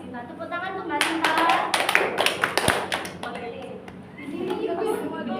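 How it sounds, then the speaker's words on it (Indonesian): A classroom gives a short burst of clapping for a student, sharp irregular hand claps for a few seconds over a room murmur, with a teacher's voice speaking before and after. "Tepuk tangan untuk Mbak Sinta."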